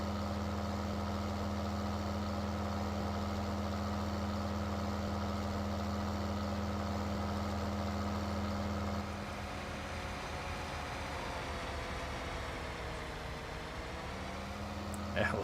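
Steady low engine drone from a tractor in a farming simulator game, a constant idle-like hum that shifts slightly partway through, with no talk over it.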